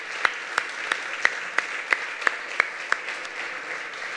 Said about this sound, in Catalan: us demanaria que li féssim un aplaudiment